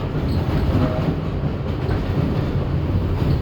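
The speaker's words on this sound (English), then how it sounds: "This is the Manhattan-bound 6 train." Steady loud rumble and rattle from inside a Manhattan-bound 6 express subway train, an R62A car, running continuously without pause at close range.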